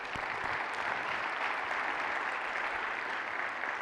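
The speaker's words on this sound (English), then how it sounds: "let's just give them a round of applause" A conference audience applauds with dense, continuous clapping that holds steady for several seconds, fairly close and uninterrupted, with no voices over it.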